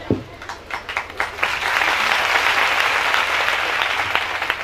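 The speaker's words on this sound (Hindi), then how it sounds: "जब भी अंकल जेम्स राम के लिए, पास्टर सूरज प्रेमानी के लिए, किसी के लिए भी ताली बजानी हो तो ऐसे बजाया करो।" A church congregation claps together, the applause swelling quickly after a sharp opening clap and holding as a steady, full wash of hands close by, with no talking over it.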